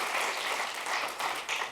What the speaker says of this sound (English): While I appreciate your applause